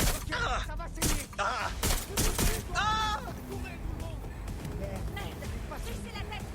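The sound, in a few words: gunfire shooting at the player in video game Watch Dogs Legion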